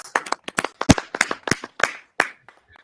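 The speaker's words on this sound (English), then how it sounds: "Have a round of applause." A small audience at a masterclass claps for a guest, a sparse patter of distinct hand claps spread across a few seconds that thins out and stops near the end.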